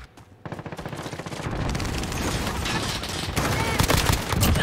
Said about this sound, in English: Who's shooting us? They're up on the tower.